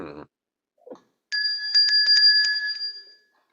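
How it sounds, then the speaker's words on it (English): A bell rings in a weather show studio with a bright sustained ding and several quick repeated strikes that ring out for about two seconds, flanked by brief bits of talk. "So rang the bell for Rich."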